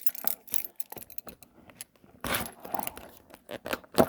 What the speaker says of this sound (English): Let's use a key. Cut right through that.